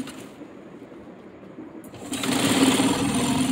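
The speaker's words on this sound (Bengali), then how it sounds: "এইভাবে ডাবল সেলাই দিয়ে" A sewing machine double-stitches the waistband of a petticoat, running at a slower hum before speeding up into a loud, continuous whirring rattle close by, with no talking.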